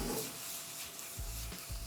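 Shrimp sautéing in garlic butter in a pan, a soft steady sizzle with a few scraping stirs of a utensil against the pan, close and fairly quiet with no talking.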